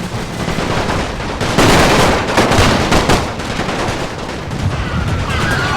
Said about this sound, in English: here we have the cavalry being gunned down by the Serbian machine guns and rifles